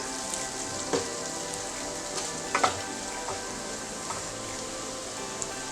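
Potatoes with cumin cook over a medium gas flame, giving a faint, steady sizzle with a few soft scattered clicks and taps; no voices.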